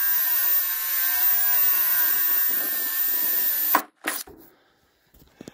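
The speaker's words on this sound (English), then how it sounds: "So I'll just start drilling it." A power drill bores a hole through a wooden beam while LED step lights are installed, a steady loud whine for nearly four seconds that stops abruptly, followed by a few short knocks and then near silence.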